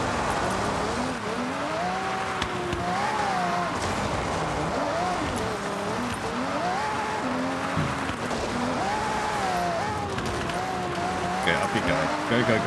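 A rally car in Forza Horizon roars along a rally route, its engine pitch rising and falling with gear changes and occasional tire squeal, while a voice talks over the driving.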